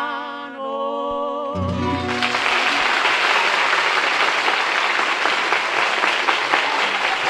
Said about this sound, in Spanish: un aplauso muy merecido